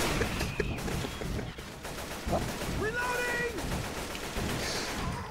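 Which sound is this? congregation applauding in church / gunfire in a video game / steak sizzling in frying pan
gunfire in a video game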